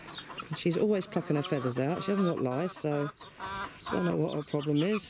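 An old, very overweight hen that plucks her own feathers clucks close up in quick repeated bursts, while someone talks briefly in between.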